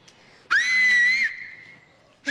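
A person gives one loud, sustained whistle that rises and holds for under a second, then trails off, with faint background noise.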